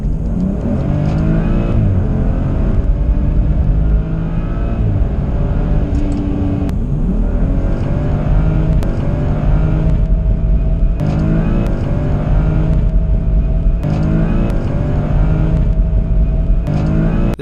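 A BMW M235i with a Stage 1 tune revs hard and loud throughout, the engine stuttering and losing power again near 6,000 RPM in repeated brief dips that break its steady drone.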